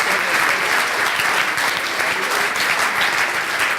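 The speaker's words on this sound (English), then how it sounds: "And a big applause to the Wagon team." A crowd at a coding bootcamp demo day applauds the Le Wagon team, a dense, continuous wash of clapping holding steady and loud from start to finish.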